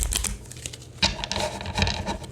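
Close, brisk riffling and patter of cards being shuffled, a quick burst of papery flicks repeating in short bursts.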